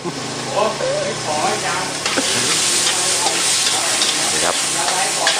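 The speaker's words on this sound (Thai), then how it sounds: "ผัดกะเพราไฟเมา นะครับไหม้เลยครับดูควันนะครับคุ้งไปทั้งร้านเลยครับ" Holy basil (kaprao) is stir-fried over a high, flaring flame in a smoky restaurant kitchen, with loud, continuous sizzling and hissing broken by metallic scraping and clanking of the spatula against the wok.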